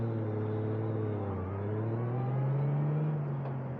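A 1996 Honda Goldwing motorcycle fitted with a Yokohama 185/60R16 car tire on the rear cruises along a road, its steady engine drone rising slightly in pitch as it accelerates, with continuous loud road and wind noise and no talking.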